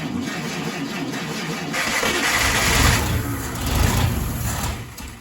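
1952 Buick Special engine cranking and firing up: a close, rough mechanical churn that swells and builds into running engine noise across the clip.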